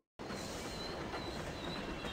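A train arrives in the video game Grandia HD Remaster, a faint, steady rumble of rolling wheels with a thin high squeal that starts abruptly from silence and carries on evenly.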